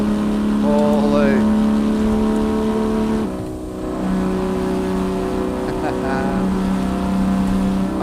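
Two-stroke truck engine in American Truck Simulator, a loud, buzzy tone that climbs and shifts pitch as it revs, briefly dropping before settling into a steady drone, with someone talking over it.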